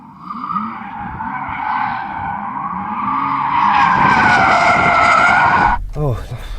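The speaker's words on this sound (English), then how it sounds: "It actually spins a lot more than I thought it would, even though it's four-wheel drive." Tires of a 2022 Porsche Taycan GTS, an all-wheel-drive electric car, screech in a long loud skid as it spins, swelling and then cutting off sharply, with a voice talking underneath and just after.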